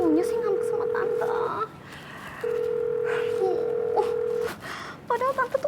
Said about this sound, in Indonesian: Angkat dong telepon tante, please.